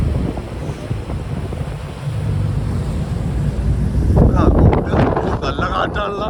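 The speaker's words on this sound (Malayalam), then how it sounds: "വിട്ടപ്പോഴേ നല്ല കാറ്റാണ്." Strong sea wind buffets a ferry leaving Doolin pier on the Atlantic, a continuous roaring rush that swells louder near the end, with someone speaking over it.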